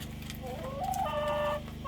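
Laying hens in a high desert farmyard cluck close by while pecking at a broken cauliflower plant, a short run of rising, drawn-out clucks and trills over a low steady hum.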